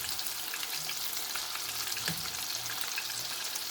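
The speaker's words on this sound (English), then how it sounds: "just let it take its time to fry until you have like the golden brown color" Cameroon-style Scotch eggs frying in oil over moderate heat, producing a soft, steady sizzle with low bubbling and an occasional louder pop, fairly quiet and without talk.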